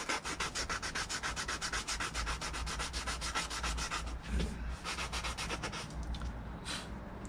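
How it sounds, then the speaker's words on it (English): Sandpaper rubs back and forth against a wooden edge, rounding it over in a fast, steady rhythm of close, loud rasping strokes that slow and thin out toward the end. "Some sandpaper or drywall mesh or floor sanding sandpaper"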